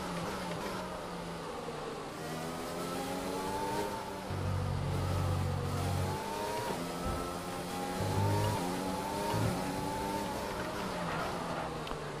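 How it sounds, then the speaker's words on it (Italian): A Formula 1 car engine in the video game F1 2020 screams at high pitch, its tone climbing and dropping repeatedly through gear changes, loud and continuous. "Prova a scappare Corris che è il motore nuovo!"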